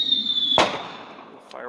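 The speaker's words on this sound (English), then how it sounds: "Fireworks." A single sharp firework bang bursts out loud over a steady high whistle, followed by a fainter second pop, with speech around it.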